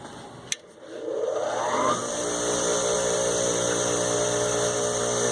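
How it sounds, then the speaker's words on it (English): A bench grinder used for sharpening a twist drill bit clicks on and spins up with a rising whine, then settles into a steady, loud motor hum with sustained tonal drone. "remember to stand to the side when you start this grinder up"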